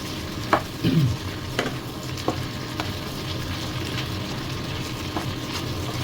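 Pork stir-fried with ginger and onion in a pan, giving a steady close sizzle with a few sharp scraping stirs and small pops scattered through, no one speaking.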